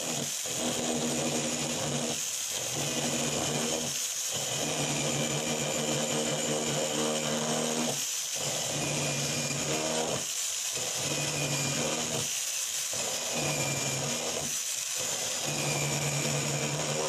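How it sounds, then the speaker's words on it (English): A drill fitted with a cutter routs a slot mortise in wood, making a loud, steady high-pitched whine that drops out in brief dips between repeated cutting passes. "figure out if it's even feasible to use to cut with a cutter and this drill"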